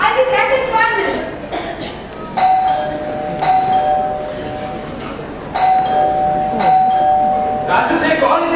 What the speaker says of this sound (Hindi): देख कौन इतनी घंटी बजा रहा है?